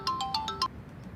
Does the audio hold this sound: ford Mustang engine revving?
no